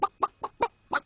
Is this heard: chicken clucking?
yes